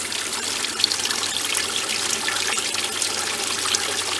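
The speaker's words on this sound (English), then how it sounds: "Alright, we have some water flow coming out." Water trickles and flows steadily through newly added aquaponic system plumbing, a close, continuous splashing dribble with no talk.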